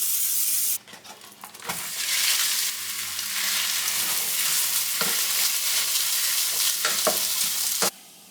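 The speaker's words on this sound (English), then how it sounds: "the pan was ready, so I threw the ground turkey on there" Ground turkey frying in a heated pan gives a loud, continuous sizzle and hiss, broken by several sharp clatters and scrapes of a utensil against the pan.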